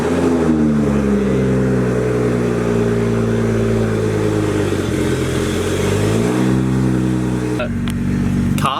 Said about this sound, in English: Car did have a little bit of a funny startup just then.